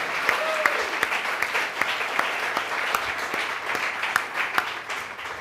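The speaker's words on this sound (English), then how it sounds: "Let's give another round of applause for our students." An audience claps steadily and continuously, a dense wash of hand claps filling the room with no break.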